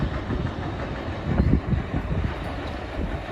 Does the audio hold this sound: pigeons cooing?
no